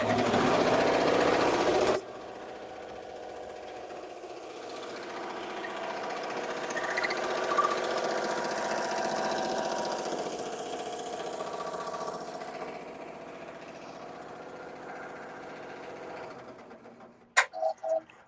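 A home embroidery machine stitches a red outline onto pink fabric for a Minnie Mouse design, humming steadily with a faint ticking rhythm after a brief louder burst at the start, close by and with no talking.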